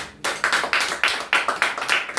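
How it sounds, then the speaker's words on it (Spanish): Rhythmic hand clapping at a church service, a steady beat of sharp claps repeating about three times per second, fairly loud with no voices over it. "Démosle fuerte aplauso al Espíritu Santo."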